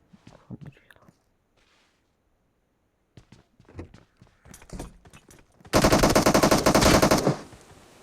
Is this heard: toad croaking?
no